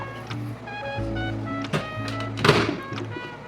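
A kitchen microwave door shuts with a couple of solid thunks and a short clatter while oatmeal is being heated, over a low, steady hum.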